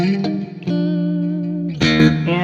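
A Fender-style electric guitar on pickup position 4, run straight into a Dr. Z Z-Rec amp, plays sustained chords and single notes with a clean, slightly chorused ring, loud and close, changing chords twice.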